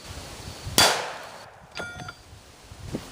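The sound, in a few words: rifle shot, 62 grain green tip, hitting 3/4 inch steel plate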